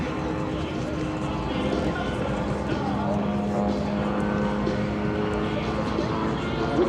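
A Van's RV-8 home-built experimental aircraft at the EAA AirVenture airshow, its engine droning steadily and fairly loud throughout under ongoing commentary from an announcer.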